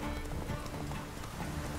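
A horse in The Witcher 3 gallops cross-country, its hoofbeats a steady rumbling patter blended into a dense, noisy game soundscape with no clear pauses.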